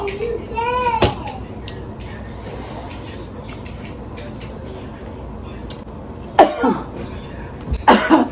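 Someone coughs near another person during a prank: a couple of short, sharp coughing bursts toward the end, close and fairly loud over a steady background hiss.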